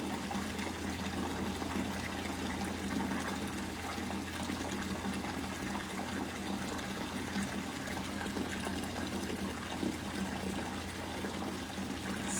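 Sea turtle Bender in a heated 30,000 gallon pool, with a continuous watery rush and trickle of circulating water, steady and moderately loud throughout, no talk.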